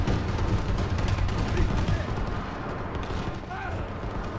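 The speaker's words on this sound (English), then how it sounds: "Bombing run on this map? That's deadly." Bombing-run airstrike explosions in a first-person shooter match on the Breakneck map: heavy, rumbling blasts in a dense, continuous barrage, loudest early and easing slightly toward the end.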